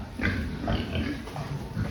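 Pigs in a farm fattening pen, fed a premix, grunt repeatedly at close range in low, irregular snorts that run steadily through the whole moment, with no talk.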